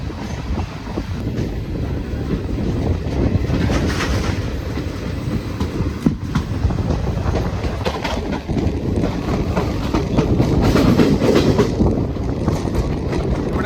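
The Guruvayur-Madurai Express rolls out of a station in Kerala, a loud steady rumble of wagons with rhythmic clickety-clack and a sharp metallic clank partway through, while birds call faintly in the background.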